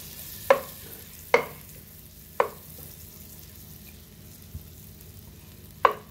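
A whole stick of butter melting and sizzling in a pan, a soft steady crackle with four sharp spoon clanks against the pan spaced out over the stretch.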